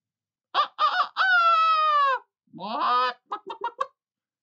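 A chicken clucks and squawks alone at close range: a few short calls, one long drawn-out cry, then a quick run of clipped clucks.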